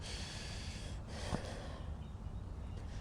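A dog yawns outdoors during a riverside walk, giving one short breathy snort and gasp partway through. The sound is close but modest against a steady wash of outdoor background noise, and no one talks.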